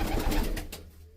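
A mixed-breed flying pigeon in Faridkot gives a short, low, throaty coo nearby, fading out within a second over a soft background hum.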